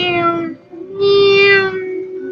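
A person imitates a cat meowing, giving two drawn-out, close, loud meows with a short gap between them.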